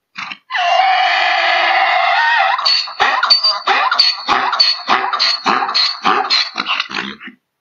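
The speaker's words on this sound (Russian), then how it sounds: "звуки, конечно же, издает мул" A mule brays close and loud, one long harsh drawn-out wheeze followed by a rapid series of choppy, rasping gasps that trail off.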